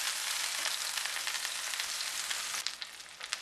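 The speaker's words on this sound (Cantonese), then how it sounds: "我幫佢反去另外一邊煎佢" Mini lion's head meatballs fry in a hot pan with a steady, close, crackling sizzle that flares slightly near the end, with no talking over it.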